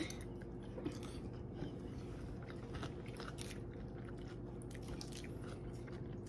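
Faint, close chewing sounds follow a bite into eggs in aspic with herbs: soft squishy mastication and small crunchy clicks, fairly quiet and continuous.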